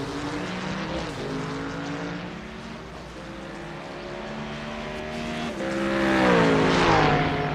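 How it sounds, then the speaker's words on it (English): A Ford Mustang race car engine in a sim racing game at Barber Motorsport drones steadily, its pitch rising and falling through gear changes and swelling louder toward the end, heard alone without talk. "The 151 falls in behind Keon Maduro, driving the 188 Ford Mustang."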